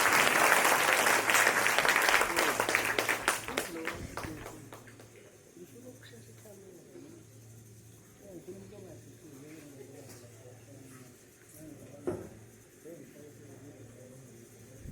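Loud applause from a large university campus audience at a DUT event, dense and continuous for about four seconds, then fading quickly into a quiet room with soft speech and scattered murmurs.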